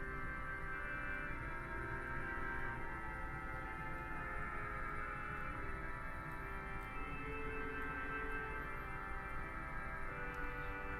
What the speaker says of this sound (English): If there's one stop to use with a tremulant,